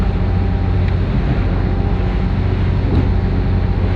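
A Conquest 55 charter vessel punches into a roughly 20 knot southerly, giving a loud, constant low engine rumble mixed with wind buffeting and water noise, heard close with no talking.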